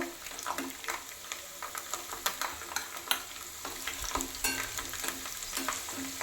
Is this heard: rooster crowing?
no